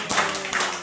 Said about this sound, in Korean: 박수 치고 아멘.